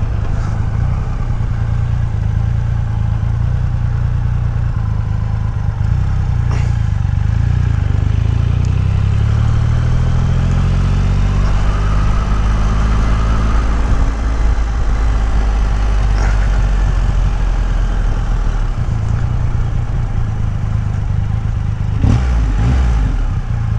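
A motorcycle at the Sturgis Rally demo rides, with a loud, close engine running steadily and rising and falling in pitch as it revs and settles, along with brief rattles and clunks near the end.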